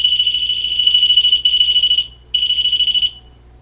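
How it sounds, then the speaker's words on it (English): A ghost-hunting detector beeps loudly and shrilly in rapid pulses, stopping briefly partway through and then resuming for another burst before cutting off. It sounds close and piercing, with no voices. "it'll make this thing beep and go off and be loud."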